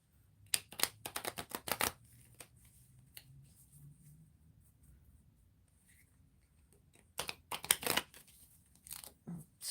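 Fortune-telling cards are shuffled close up in two bursts of rapid riffling and slapping, one near the start and one near the end, with quieter handling between and no talk.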